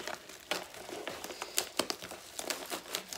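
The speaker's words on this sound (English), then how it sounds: "I should just tear the packet into shreds" A plastic DVD packet being torn open, heard as a run of close, soft crinkling and crackling with small sharp rips scattered throughout, at a moderate level and with no voices.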